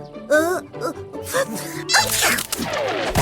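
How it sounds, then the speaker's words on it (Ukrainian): A cartoon character lets out a sneeze amid lively animated voices and music, with a sharp burst standing out partway through the busy, loud dialogue. "Якби я не чхнув, ти б мене ніколи не знайшла, навіть через рік."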